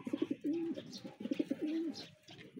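Pigeons coo in a loft, two clear rounds of rolling low coos close by, with soft rustling and faint background chatter between them.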